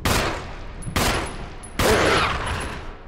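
Three loud, close gunshots ring out about a second apart in the Resident Evil HD video game, each a sharp crack with a lingering echo tail.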